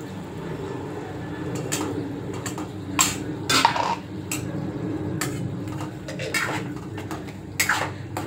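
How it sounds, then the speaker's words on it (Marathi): Green masala and potatoes sautéing in oil in a pot, a steady low sizzle with repeated metallic scrapes and clinks of a spoon against the vessel, close by, with occasional faint talk. "मसाला असं छान असा परतून घ्यायचा तेलामध्ये सुद्धा."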